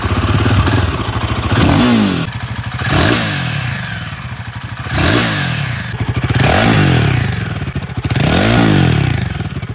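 A Royal Enfield Himalayan 452cc motorcycle roars loudly while being ridden, its engine rising and falling through repeated revving surges about every two seconds, with some clatter and thuds from rough ground and no talk.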